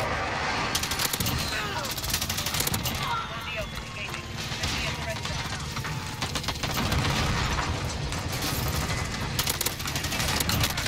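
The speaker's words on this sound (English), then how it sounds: "I just got shot through the wall" Gunfire in Call of Duty: Modern Warfare, with rapid automatic bursts and scattered shots running almost continuously, mixed with game effects while a player talks over it.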